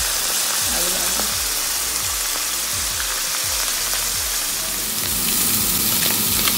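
Salmon frying in a little oil in a pan, a steady broadband sizzle throughout with soft scraping or stirring knocks recurring under it, close and even in loudness.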